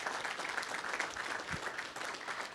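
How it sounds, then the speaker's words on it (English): Audience clapping at an FAA training summit, a steady, fairly faint round of applause from a crowd, even and continuous across the moment. "Let's give him a round of applause."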